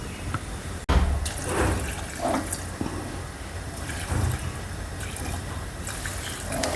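Water poured into a cooking pot while making a white kurma with chickpeas, a steady splashing and trickling pour of moderate loudness that carries on for several seconds with no voices.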